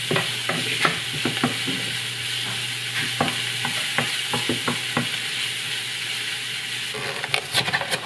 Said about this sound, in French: Maintenant on va brasser les oignons un petit peu.